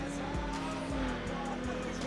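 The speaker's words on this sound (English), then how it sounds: "I like the way this car sounds." A fast street car's engine drones in Need for Speed Underground, a sustained buzzing roar with a rising tone and faint periodic clicks, steady and loud throughout.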